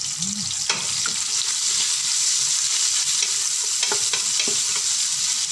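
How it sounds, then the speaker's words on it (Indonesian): Thinly sliced onion fries in a pan with a bright, steady sizzle, punctuated by several close stirring scrapes and taps, with no talking. "Sekarang kita kacau bawang besar ni sampai layu, wangin dan bertukar warna."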